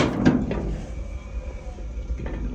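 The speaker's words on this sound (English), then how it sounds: "now I'm going to open the door." Door of an antique home furnace opening with a short metallic clunk and scrape, followed by a low steady burner rumble and a faint later clank.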